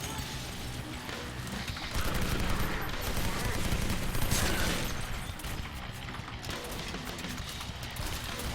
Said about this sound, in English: Yep, that's my M249 saw.